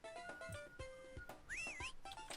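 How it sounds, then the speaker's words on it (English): Jinjo creature in Banjo-Kazooie: Grunty's Revenge gives a short melodic whistle, a warbling rising and falling tone, heard alongside other game tones and chimes. "I heard a Jinjo whistle"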